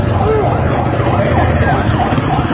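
Wailing police siren at a roadside scene, loud and sustained with rising and falling sweeps throughout, mixed with background crowd noise and voices.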